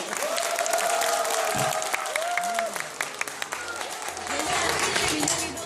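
Audience applause and cheering from a crowd at a live event, steady clapping throughout with a whistling tone sweeping over it and a voice or two calling out.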